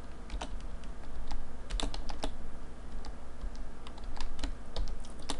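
Rapid keystrokes on a computer keyboard while an Excel formula is entered, a steady run of close, crisp clicks in irregular bursts with no talking.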